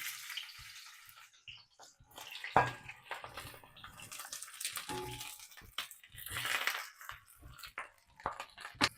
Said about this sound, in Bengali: আমার তেল গরম হয়ে গেছে, বেগুন ছেড়ে দিচ্ছি।